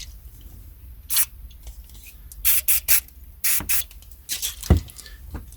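An aerosol spray can near the end of its contents gives a series of short hissing bursts, some longer, with gaps between them and light handling noise.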